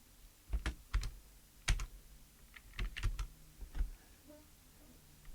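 Brisk bursts of clicks on a computer keyboard connected to a small 8-bit single-board computer, with uneven pauses between bursts as a command is typed, close up and with no talking.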